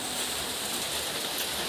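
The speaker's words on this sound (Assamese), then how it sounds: "চিপ চিপ কৰি দি আছে বৰষুণ।" Light drizzling rain on an overcast day at a rural home, a soft continuous broadband hiss with no distinct drops, steady and unbroken.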